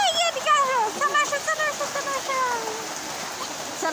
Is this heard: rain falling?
yes